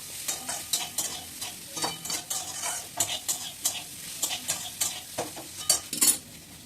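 Bhetki fish frying in a pan while being stirred, steady sizzling broken by repeated rhythmic scrapes and clinks of a utensil against the pan, close and fairly loud.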